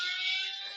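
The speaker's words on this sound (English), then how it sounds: "we've got the alarm tonight." A short electronic alarm tone sounds as a talk-too-long buzzer on a show, a bright steady beep holding for under a second.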